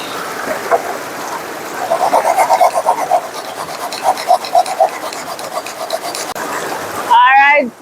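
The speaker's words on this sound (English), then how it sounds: "Grate of coconut." Rhythmic rasping strokes of coconut being grated by a riverside while cooking Jamaican-style curry crab, a steady repeated scraping under outdoor background noise, ending with a brief louder burst.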